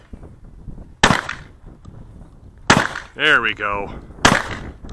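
Sharp, loud firearm reports at a mini 3-gun match, three separate shots spaced a second or two apart, with a person speaking briefly between them.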